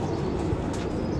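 Pigeons on a rooftop loft in Jhelum, part of a group of about thirty birds, cooing and stirring in a low continuous murmur, with faint wing movement close by.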